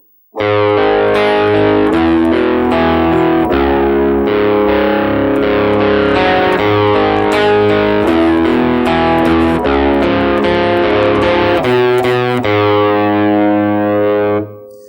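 A loud, fuzzy electric guitar riff runs continuously, chords and low notes changing in a driving rhythm before a final ringing chord.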